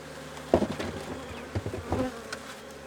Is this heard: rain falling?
no